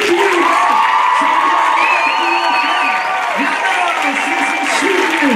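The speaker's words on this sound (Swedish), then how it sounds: "ge dem igen en stor applåd och mycket ljud" A burlesque show audience applauds and cheers loudly and steadily, with whoops and shouts over dense clapping while a host's amplified voice talks over the crowd noise.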